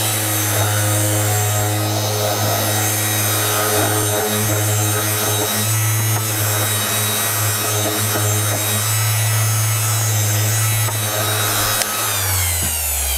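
A power sander works a furniture coating in a shop using a UV LED curing system, a loud steady whine with a constant tonal hum and rough grinding texture, winding down at the end.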